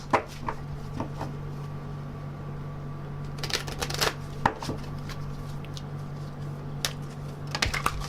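Tarot-style advice cards shuffled by hand during a reading, giving soft papery riffles and flicks in scattered bursts with a steady low hum beneath and no talking.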